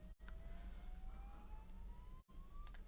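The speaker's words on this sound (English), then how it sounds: "The fire alarm goes off a bit around here" A building fire alarm gives a faint, slowly rising tone that repeats over a low steady hum, with two brief dropouts and no talk.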